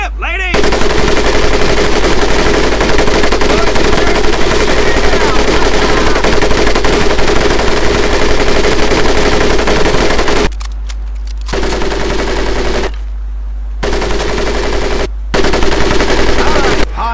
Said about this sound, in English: M1919A4 caliber machine gun.